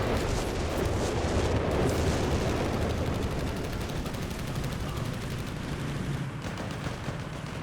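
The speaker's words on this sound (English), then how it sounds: "More Stuka shots coming in." A Stuka rocket artillery barrage lands in Company of Heroes 3, a dense rumbling wash of overlapping blasts and crackling detonations that rolls on continuously, heaviest early and thinning slightly toward the end.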